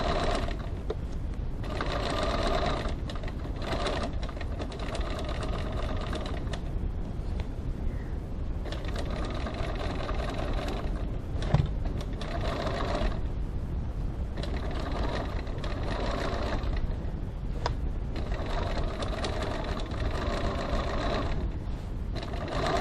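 A sewing machine stitches a boot-shaped fabric gift bag from the lining side, running in a steady, close mechanical whir with brief pauses between bursts of stitching.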